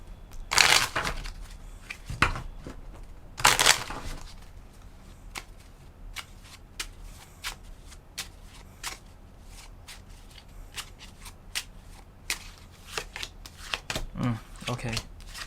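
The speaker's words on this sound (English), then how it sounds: "I shuffled the cards, okay? I shuffled the cards, I swear." Deck of tarot cards being shuffled close up: a few loud riffling bursts early on, then a run of soft, rapid card taps and snaps, with a person talking quietly in between.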